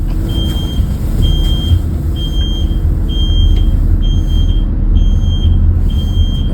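Reversing beeps from a school bus backing up to park, a regular series of high electronic beeps repeating about once every 0.7 seconds over a low idling engine rumble.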